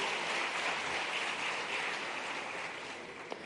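Audience applause welcoming the chief minister at a Bhopal student-encouragement laptop award event: a dense, even wash of clapping from a crowd, steady throughout and easing slightly toward the end, with no speech.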